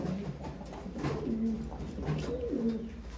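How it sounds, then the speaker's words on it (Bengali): Regdar pigeons, a male and female pair kept by a fancier, coo softly in a few rising and falling calls close by, with a low steady background hum. "এটা ছিল নর পায়রা, রেগদার পায়রা আছে"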